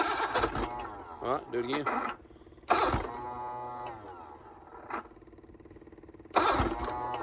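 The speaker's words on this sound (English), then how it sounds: "It's cranking though. There she goes." An old bass boat's outboard engine cranks in uneven bursts and catches briefly, with a rough mechanical rumble between attempts, close by, while someone speaks over it.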